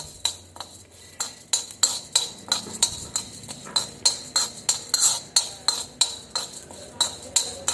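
Urad dal is dry-roasted in a pan with a pinch of oil over a low flame, a spoon scraping and clinking against the metal in a regular rhythm of sharp strokes, close and clear.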